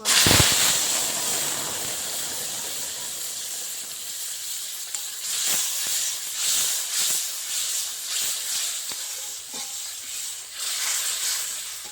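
Ginger, tomato and green chili paste hitting hot tempering oil with whole five-spice seeds, giving a loud steady sizzle and hiss with scattered sharper pops and crackles throughout, no voices.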